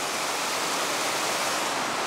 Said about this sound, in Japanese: 水の音もお聞きいただけましたかね。